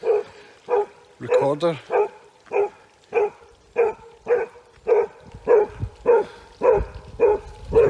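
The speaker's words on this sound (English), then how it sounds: "I love the sound of the dog barking." A dog barks repeatedly in the woods, about a dozen evenly spaced loud barks with a ringing echo trailing each one, while a person speaks briefly near the start.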